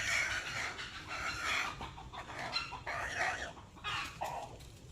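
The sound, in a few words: chicken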